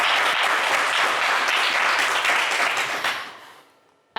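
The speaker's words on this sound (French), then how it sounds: "Notre public est gentil et très généreux en applaudissements" Studio audience applause on a French television game show, a dense, sustained roar of clapping from a crowd that holds steady and then fades away at the end.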